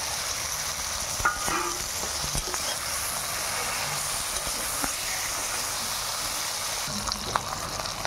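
Fried pabda fish sizzling in a pan with chopped tomato, salt and turmeric for a mustard-poppy seed curry, a steady close hiss and crackle of hot oil with occasional stirring clinks.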